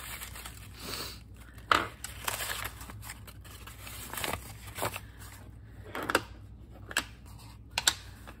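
Craft paper from a Dollar Tree roll being scrunched by hand, giving bursts of close, crisp crinkling and crackling with sharp peaks spread irregularly across the stretch and no talking.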